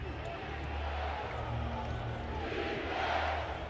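Arena crowd at an NBA playoff game, Nuggets versus Clippers Game 1 in the 2025 playoffs: a sustained roar of a large standing crowd with scattered shouts, under a commentator's voice.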